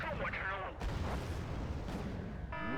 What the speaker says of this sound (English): Okay, artillery.